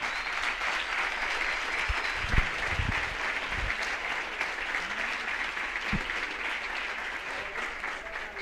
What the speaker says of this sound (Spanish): saludémoslos con un aplauso como lo hicimos